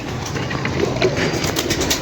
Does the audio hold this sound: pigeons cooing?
yes